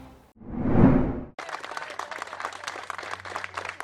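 Steady applause from a crowd, many hands clapping at once, following a brief whooshing burst, as authorities thank rescue teams.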